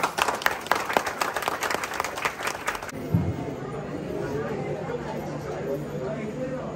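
An audience at a Sai Baba temple anniversary function claps loudly in a dense burst of applause that stops abruptly after about three seconds. Crowd chatter and speech continue afterward.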